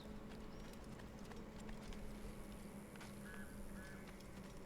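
Horse hooves clip-clop in Assassin's Creed, a steady rhythmic trot over a busy ambient game background with faint bird calls, moderately distant.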